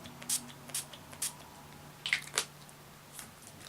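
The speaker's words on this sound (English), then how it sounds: "Spray my face with the NYX Matte Finish setting spray." NYX Matte Finish setting spray misted onto a face: a few short, faint hissing spritzes in a quiet room, irregularly spaced, with soft handling noises between.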